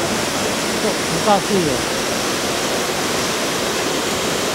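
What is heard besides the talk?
waterfall at Niaotakeng, Nantou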